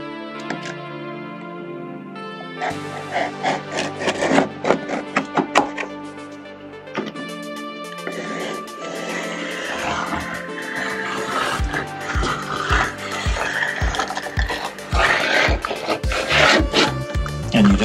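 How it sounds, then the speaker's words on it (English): Cutting through the seal around a door's side light panel: close, irregular scraping and rubbing broken by dull knocks and thunks, denser toward the end, with no speech. "So you make a cut line between what you're taking out and what's staying, and cut that seal area so it'll let go."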